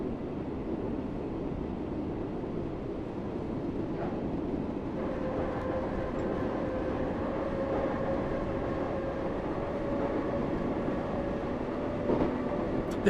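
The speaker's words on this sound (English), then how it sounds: "The noises this train makes is horrible." Steady rumble of a train running in Train Sim World 5 on a snowy UK line, continuous and fairly loud, with a faint tonal whine rising in the middle and no talk.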